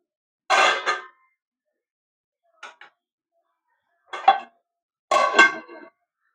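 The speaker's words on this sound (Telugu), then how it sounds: "మళ్ళీ మూత పెట్టుకోవాలండి" A lid is set back onto a cooking pot while a potato and chickpea curry cooks, giving a few short, sharp metallic clanks spread apart with silence between them.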